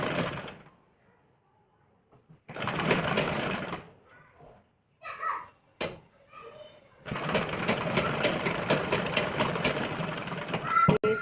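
A sewing machine stitches a blouse in several bursts of rapid mechanical whirring, broken by pauses with brief handling noises and a short voice between runs.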